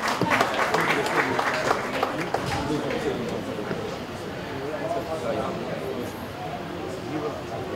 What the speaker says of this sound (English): round of applause for our wonderful speakers